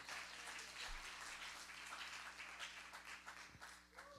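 An audience claps steadily for about four seconds, a dense, even wash of applause with a couple of dull low thumps mixed in and no voices.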